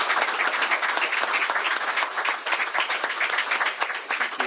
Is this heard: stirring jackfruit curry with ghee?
no